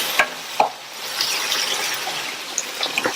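Masala sizzles softly in a pan with a steady crackle while frying for a cauliflower side dish, punctuated by a few clicks of a spoon stirring.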